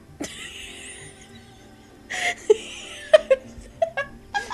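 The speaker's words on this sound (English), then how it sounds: "That was my fake cough." Someone fakes a cough in a visual novel game, giving short voiced bursts with a few clipped, laugh-like coughs in between. The sound is fairly close and separated by quiet gaps.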